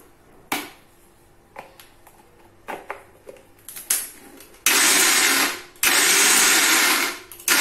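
An electric kitchen mixer grinds raw mango for a coarse chutney in two loud, roaring runs of a few seconds each, after softer clinks and knocks of the jar being handled.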